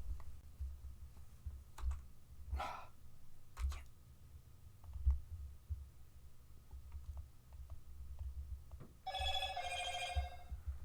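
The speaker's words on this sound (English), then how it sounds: "There's my phone going off." A mobile phone rings near the end with a short, bright electronic ringtone burst, after scattered keyboard clicks and desk knocks in a quiet room.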